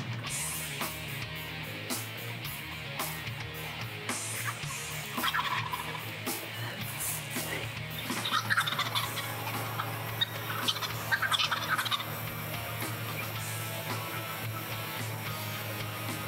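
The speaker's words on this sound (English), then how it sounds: "They're drop kicking our decoy, strutting and gobbling right there all in front of us." Several wild turkey longbeards gobble repeatedly while strutting around a decoy, loud bursts of gobbling rising over steady outdoor background noise with no talking.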